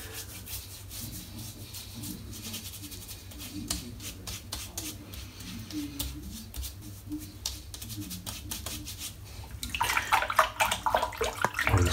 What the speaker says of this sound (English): rinse off my hands